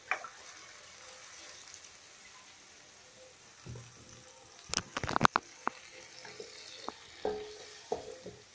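A spoon stirs a rabbit stew with potatoes in a pan over a hearth fire after paprika, cayenne and a splash of wine go in. Quiet sizzling runs throughout, broken by a few sharp clattering scrapes near the middle.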